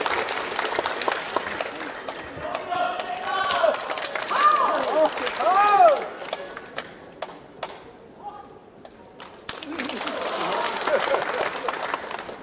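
An audience applauds to welcome a male dan performer at a Peking opera concert, sustained clapping that swells and fades with scattered cheers and voices in the hall.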